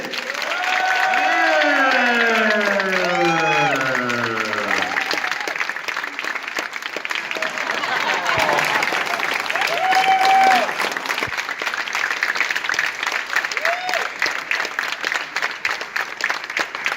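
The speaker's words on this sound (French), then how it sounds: "Je vous demande d'accueillir avec honneur et d'applaudir fortement le président du jury, Marcus Nispel." Sustained audience applause at a film festival opening ceremony, dense clapping and some cheering from a large crowd, steady throughout, with a few voices rising above it.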